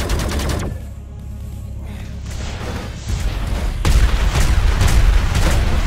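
Grenades explode in the video game Dysmantle with heavy booming bursts and crackling blasts, loud and close, that build toward a dense, rumbling barrage near the end.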